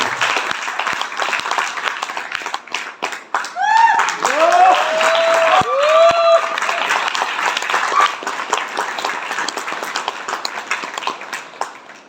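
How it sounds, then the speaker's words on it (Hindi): A stage audience claps in a sustained, dense burst of applause, with a voice with a sung or sustained tone rising over it midway and crowd noise continuing throughout. "लोग इनके लिए इसलिए ताली बजाए"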